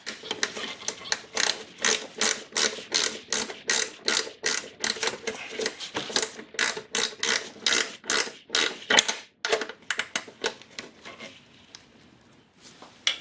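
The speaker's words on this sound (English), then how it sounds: "I'm going to tighten this bolt back on the firewall down." A ratchet clicks in quick, repeated bursts as a 10mm bolt on a 1999 Acura RL's firewall is tightened, a close mechanical clatter with short pauses between runs of strokes.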